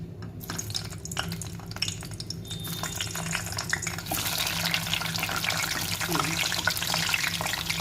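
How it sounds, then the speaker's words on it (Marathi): Eggplant slices fry in hot oil in a home kitchen, giving a steady crackling hiss that grows fuller and louder partway through and carries on without pause, with no talking. "आता मी यामध्ये वांगी तळून घेते."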